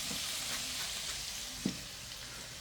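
Meat frying in a pan with a steady, close sizzle and hiss throughout, broken by one brief stir or clatter midway.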